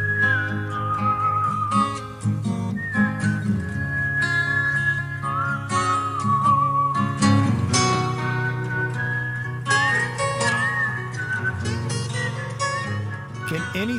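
A whistled melody from a song runs steadily over layered music for the whole stretch, clear and fairly loud.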